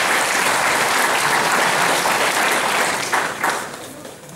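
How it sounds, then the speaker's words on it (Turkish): Dense, steady audience applause greeting a guest invited onto the stage at a ceremony presenting a Quran to a martyr's family in Eğirdir, fairly loud throughout and tapering off near the end. "Alkışlarla onu sahneye davet etmek istiyorum"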